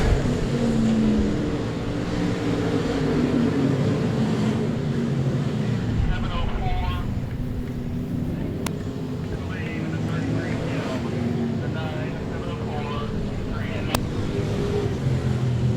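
Sprint cars race around the Cotton Bowl Speedway dirt track, a blurred, wind-buffeted engine roar carrying on throughout while a commentator talks over it.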